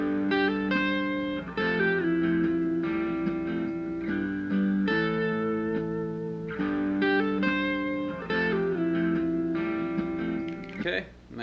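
A rock lead guitar phrase with a pull-off and a slide plays over a full backing track, with sustained, bending melodic notes across a steady band groove and no talking.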